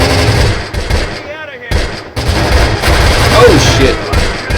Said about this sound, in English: They're firing on my guys.